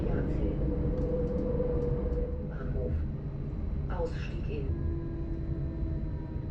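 Interior of a Mariazellerbahn narrow-gauge train running from St Pölten toward Mariazell, a steady low rumble of wheels and carriage with faint squeals and clicks over it.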